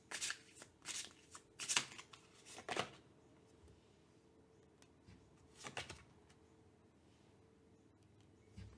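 A tarot card deck is shuffled in quick riffling bursts, several crisp flurries in the first few seconds and another brief burst later, close and clear with no talking.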